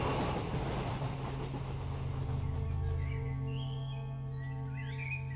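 A train rumbles steadily, fading slightly, while faint bird calls chirp over the top toward the end; no voices are present.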